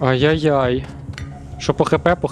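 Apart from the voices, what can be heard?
No everyday noise stands out behind the speech.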